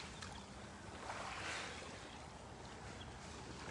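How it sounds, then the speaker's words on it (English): Heavy ocean waves surge and crash against a sea wall in a steady, loud broadband roar, with a swelling peak about midway, continuous and unbroken, no voices. "The heavy waves crashing in."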